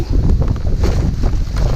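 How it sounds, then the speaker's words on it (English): Wind picking up outdoors during street scrap collecting, a loud rushing buffet of gusts across the microphone, continuous and close, with no talk. "Feel that wind picking up?"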